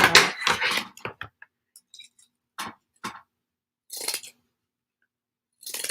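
Christmas scissors snipping through burlap, a handful of crisp separate cuts spaced irregularly, close and fairly loud with quiet gaps between them.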